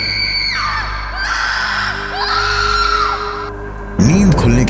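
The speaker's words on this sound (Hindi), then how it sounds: "मैंने एक जोरदार चीख सुनी थी।" A loud, drawn-out scream effect in a horror story, wavering and sliding in pitch over a low eerie droning background, with a harsher burst of sound at the very end.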